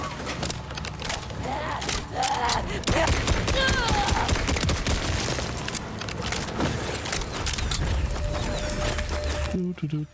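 Rapid bursts of gunfire and mechanical clatter from a Borderlands 4 firefight, loud and nearly continuous for about ten seconds with brief voices mixed in, cutting off abruptly at the end.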